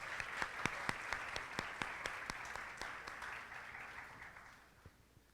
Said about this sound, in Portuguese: Um salva de palmas, Alberto Cunha Mello.